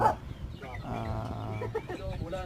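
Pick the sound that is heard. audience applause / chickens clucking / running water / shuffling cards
chickens clucking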